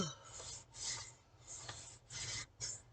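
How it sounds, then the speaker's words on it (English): Repeated rasping strokes of sandpaper on a 1/72 scale plastic model aircraft, several steady back-and-forth passes at close range with brief pauses between them. "we're going to do a little bit of sanding on here"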